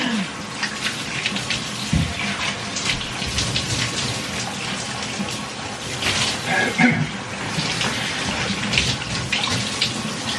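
Warm tap water runs steadily during a skincare rinse at a bathroom sink, a continuous splashing hiss with voices talking over it.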